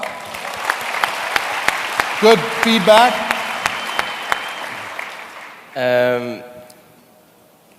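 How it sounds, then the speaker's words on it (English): An audience at a network marketing seminar applauds steadily for a few seconds, with a couple of voices calling out over the clapping before it fades and someone briefly speaks near the end. "give him a round of applause"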